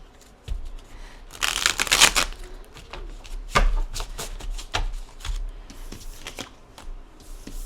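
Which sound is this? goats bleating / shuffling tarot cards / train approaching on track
shuffling tarot cards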